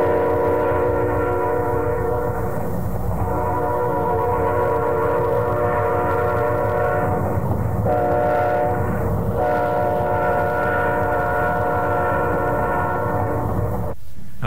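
A steam train whistle on the Pacific Great Eastern Railway in Canada blows long sustained tones, briefly breaking and resuming, over the low rumble of a moving train.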